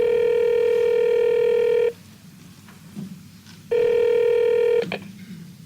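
A telephone dial-tone-like ringing tone plays loud and steady for about two seconds, stops, then returns for a second stretch, with faint clicks and rustle in the gaps, heard alone without talk.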